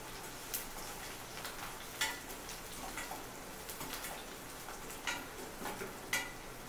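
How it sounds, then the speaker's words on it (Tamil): Garlic and curry leaves sauté in a pan for a goat trotter paaya curry, with a soft steady sizzle broken by occasional clinks and scrapes of stirring. "கருவேப்பிலை போட்டு நல்லா வதக்கிக்கணும்."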